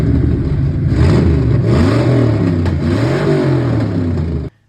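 A Ford Mustang 5.0 V8 in a 1967 Mustang Fastback revs loudly and close, its pitch swooping up and down several times in uneven blips before cutting off abruptly.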